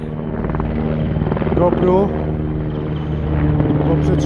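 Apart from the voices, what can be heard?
helicopters flying over the Tatra mountains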